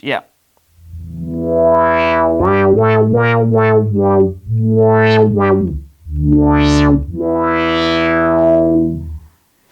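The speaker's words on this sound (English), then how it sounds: "So we have a new mini filter." A Yamaha Montage synthesizer plays bright, buzzy chords through its new mini filter effect, an emulation of a ladder filter, with the filter sweeping open and shut on each note in quick rhythmic bursts, then longer swells; a voice briefly murmurs once.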